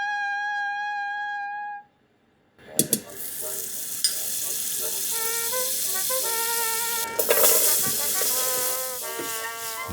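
Butter frying in a pan for a Japanese wartime-era white sauce for fricassee chicken gives a steady, close sizzle that starts abruptly after a tone and a brief silence, with some faint clinking and a voice talking over it.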